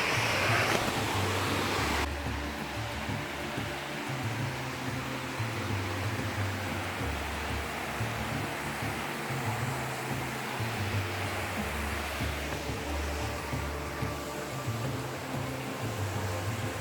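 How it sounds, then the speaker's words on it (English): A loud waterfall on a hike, a dense continuous roar of rushing water that stays steady throughout with no talking. "It's gonna be really loud over by the waterfall, but I'll film some."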